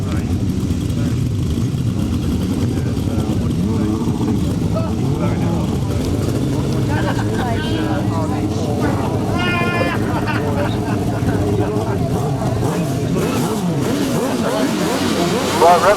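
Grasstrack racing motorcycles up to 1000cc sit on the start grid at a 2009 meeting, engines revving and rising in a loud, layered drone, while an announcer speaks over the blare the whole time.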